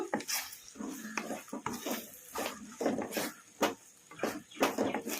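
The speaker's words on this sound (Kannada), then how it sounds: "ಈ ಥರ ಕಲಿಸ್ಕೊಂತಾನೆ ಫ್ರೈ ಮಾಡ್ಕೋಬೇಕು, ಇಲ್ಲಾಂದರೆ ತಳ ಒತ್ತುತ್ತತಿ" Masala is stirred and fried in a pan on high flame, giving repeated scraping clatters of a spoon against the metal pan over a sizzling bed, close and uneven in rhythm.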